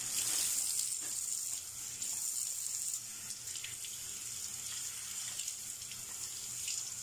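Tap water runs steadily into a sink while raw meat is washed, a continuous close hiss with slight splashing changes as the flow is interrupted by handling.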